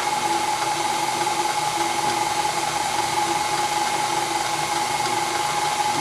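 An electric mixer beats pumpkin chocolate chip cake batter with a steady, continuous whirring hum at constant loudness and no talking.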